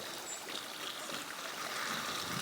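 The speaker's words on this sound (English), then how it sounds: "You see that this is not a constant flow, that the water comes oxygenated." Water gushes from a venturi aerator in a steady, close, hissing and bubbling flow, frothy with air, with no pauses.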